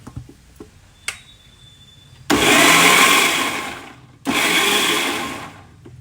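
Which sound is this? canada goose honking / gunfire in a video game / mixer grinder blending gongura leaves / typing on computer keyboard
mixer grinder blending gongura leaves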